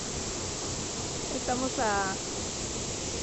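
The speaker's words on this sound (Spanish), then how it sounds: "Miren, allá está la cascada." A jungle waterfall at Cascada Paraíso Escondido in Berriozábal, Chiapas, makes a steady broadband roar throughout, with a person briefly speaking over it midway.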